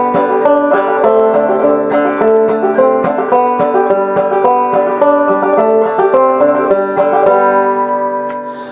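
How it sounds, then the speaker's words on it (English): Clawhammer banjo plays a quick run-through of Skip to My Lou in open G, a bright, steady, rhythmic stream of plucked and brushed notes, close and loud with no voices, fading slightly at the end. "we're going to be learning our first banjo tune,"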